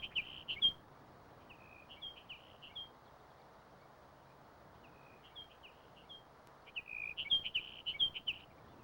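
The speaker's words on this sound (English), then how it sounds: "the dry sagebrush expanses that stretch from the western slope of the Rockies to California ring with the songs of the sage sparrow" Sage sparrow singing in dry sagebrush country, short high twittering phrases repeated in bursts with pauses between, distinct against a quiet open background.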